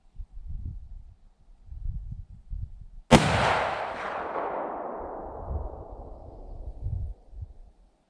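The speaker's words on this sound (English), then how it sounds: "now we're gonna shoot at the target on the right with the old 30-06 using the 200 grain trophy bonded bear claws" A single loud Ruger M77 bolt-action rifle in .30-06 fires a 200-grain bonded bullet at an outdoor range, a sharp close crack followed by a long rolling echo, with faint low rumble and breathing before and after.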